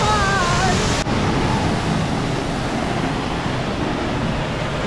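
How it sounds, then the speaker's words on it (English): Steady rushing water of the Seven Sisters waterfall in Sikkim roars loudly and continuously, a broad wash of noise close by, with a brief whistling tone at the start. "Now let's enjoy the cinematics of the Seven Sisters waterfall."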